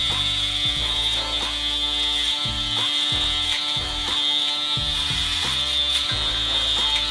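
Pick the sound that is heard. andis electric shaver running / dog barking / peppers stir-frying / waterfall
andis electric shaver running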